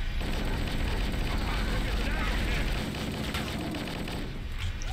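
Rapid automatic gunfire in Halo: Combat Evolved, a dense, steady burst of shots filling the whole stretch at close range, with a brief lull toward the end.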